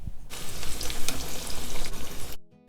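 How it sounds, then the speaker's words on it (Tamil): Fish pieces and curry leaves fry in hot oil, a loud, dense crackling sizzle running continuously for about two seconds before cutting off abruptly. "முதல்ல பெரிய திக் துண்டுங்களை போட்டு எடுத்து பொரிச்சு எடுத்துடலாம்."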